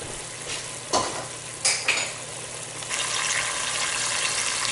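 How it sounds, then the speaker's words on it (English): Red wine bubbling and sizzling in a pan while reducing for braised beef shank, with a steady hiss that swells louder partway through and a few utensil scrapes and clinks near the start. "We'll let that come to a boil and reduce by half"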